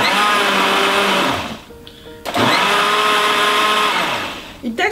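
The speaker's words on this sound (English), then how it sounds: "Let me be sure that my blender is on." A blender blending a kale and spinach smoothie whirs loudly, briefly slows and dips, then roars back up to full speed, ending with a short stutter.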